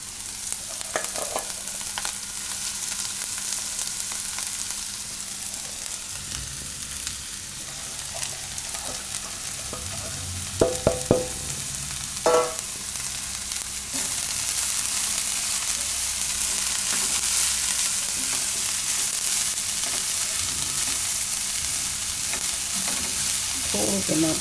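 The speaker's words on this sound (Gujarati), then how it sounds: "હવે એમાં નાખી દઉં આપણે આ ડુંગળી લીલી." Chopped green onions fry in hot oil, giving a steady sizzle throughout, broken by a few clinks and scrapes as they are stirred in the pan.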